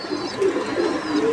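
Pigeons at Rajan's pigeon farm in Tangail, including a grey-bar pair of Mukhi pigeons, give low, throaty coos in a steady, rolling series close by, with no voices.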